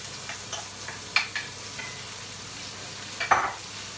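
Onions and bacon frying in fat in a pan on high heat: a constant low sizzle broken by scattered crackles and a few sharper spits, heard up close with no talking.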